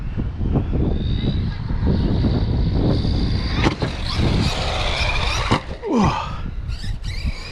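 An Arrma Outcast 4S V2 radio-controlled car driving near a ramp: a loud, continuous high-pitched electric motor whine rises and falls with throttle, with tire scuffs and a brief thump near the end.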